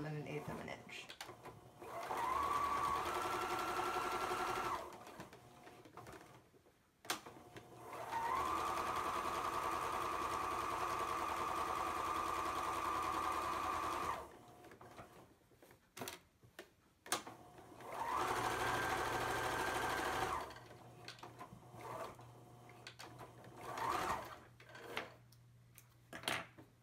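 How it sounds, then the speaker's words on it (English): A sewing machine stitching along the top and bottom of a fabric face mask, running in several close, steady bursts of rapid whirring separated by pauses, with speech in the gaps. "So we're gonna sew along the top and along the bottom."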